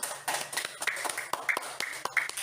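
Pupils in a classroom clap in a few scattered, uneven bursts, fairly faint, with high voices calling out between the claps.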